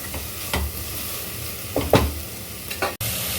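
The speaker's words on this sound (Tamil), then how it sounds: "இப்போ தக்காளி பச்சை மிளகா காய் எல்லாமே நல்லா வதங்கிடுச்சு" Tomatoes and green chillies sizzle gently in a pan nearby as a spoon scrapes through them in a few separate stirs.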